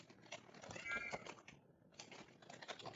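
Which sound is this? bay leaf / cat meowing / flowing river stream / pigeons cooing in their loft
cat meowing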